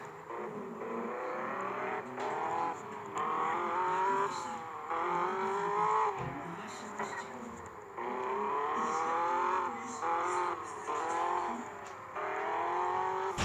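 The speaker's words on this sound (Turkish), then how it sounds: "Motoru açtım." A Tofaş Şahin car's engine runs in a driving video game, a continuous steady drone whose pitch rises and falls repeatedly as if revving through gears, with no talk over it.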